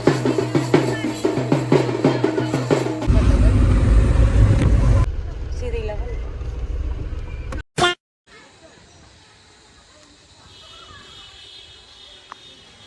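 A new car being driven on the road toward Chitrakoot, India, heard from inside the cabin, with a steady engine and road rumble, a few horn toots, loud music or voices at the start, then quieter driving.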